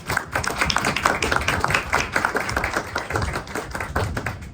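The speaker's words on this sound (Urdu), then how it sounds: "زوردار تالیاں" Loud, sustained applause fills a church congregation with dense crowd clapping throughout and no clear talk.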